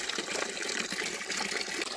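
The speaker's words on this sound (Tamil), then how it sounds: "இப்போ அதை நம்ம தண்ணியில் நல்லா கழுவி எடுத்துக்கலாம்." Ponnanganni spinach leaves are washed in water in a village-style kitchen, a continuous splashing and gushing of water moving around the greens, close and steady with no talk.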